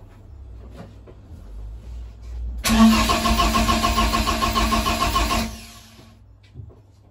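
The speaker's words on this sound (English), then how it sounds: "I'll just crank the engine, see what happens." A BMW E30 rally-prep car's engine cranks for about three seconds without firing because of a faulty crank position sensor. The starter whirs loud, close and steady, then stops, with quiet surroundings before and after.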